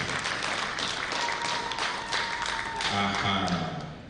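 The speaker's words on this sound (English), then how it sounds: "let's give ourselves a very big round of applause to all of us" Attendees at a strategy launch ceremony clap together, a moderately distant spread of applause with scattered sharper claps and some background voices mixing in.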